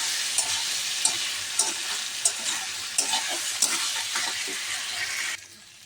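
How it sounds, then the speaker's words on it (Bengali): Masala chicken dry-fries in a pan without added water, a close steady sizzle broken by regular scraping stir strokes roughly every half second, then dropping quieter as the heat eases near the end. "এভাবেই ভাজতে থাকবো"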